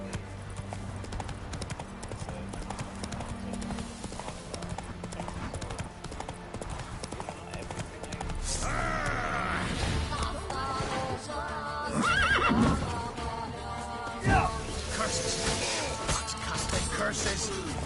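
Horse hooves clip-clop steadily in the open-world game Witcher 3, building to a faster gallop, and a loud neigh breaks in partway through. Game music and ambience sit underneath.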